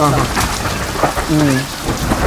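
Heavy rain from a thunderstorm with lightning, recorded outdoors near toddy palm trees, hisses steadily and close for the whole stretch, a dense wet wash with faint rumbling under it and a few brief voice-like tones.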